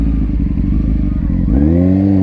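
A sport bike motorcycle engine runs loud and close, a rough idle rumble that rises into a rev near the end, with no voices.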